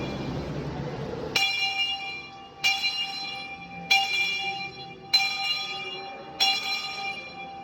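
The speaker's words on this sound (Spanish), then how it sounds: "de este lado estaba la campana y acá el fogonero la tocaba. La campana tenía una soga." A steam locomotive's rope-pulled bell, rung by the fireman at a train museum in Puerto Rico, strikes five times at a slow, steady pace, each bright metallic clang ringing out and decaying before the next.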